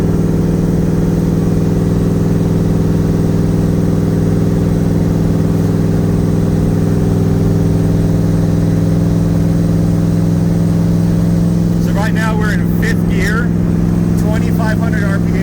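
A Nissan 300ZX IMSA widebody with a swapped VK56 twin-turbo engine cruises at speed, giving a loud, steady in-cabin drone throughout, with someone speaking briefly over it near the end.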